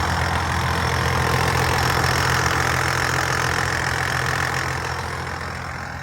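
A John Deere 7710 tractor's 7.6-litre diesel engine idles continuously with a low, steady rumble and rattling knock, close by and loud, fading slightly toward the end.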